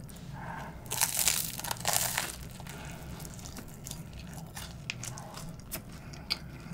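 Crisp, crackly bites and crunches into crispy bread topped with green onion, a couple of louder crunches early on followed by quieter chewing and small crackles, close up with no talk.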